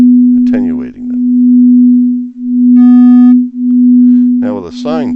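Steady sine tone in a synthesis demonstration, slowly phasing so its level swells and dips in repeated cycles, with a faint ringing pitched tone briefly sounding midway and a voice speaking over it at the start and end.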